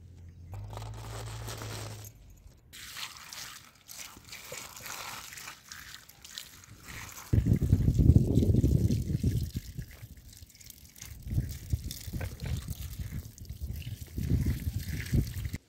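Green chillies are washed under running water in a home kitchen, with a steady trickle and splash that swells louder midway and continues without talk.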